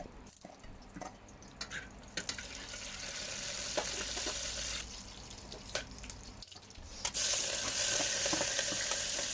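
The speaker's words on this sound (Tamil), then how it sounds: "அது கூடவே வெங்காயம், தக்காளி, கருவேப்பிலை, இஞ்சி பூண்டு பேஸ்ட் எல்லாம் சேர்த்து நல்லா வதக்கி விட்டுக்கரலாம்" Onion, tomato, curry leaves and ginger-garlic paste sautéing in oil in a cooker give a steady, moderately close sizzle with scattered sharper crackles and pops, growing a little louder toward the end, with no talking.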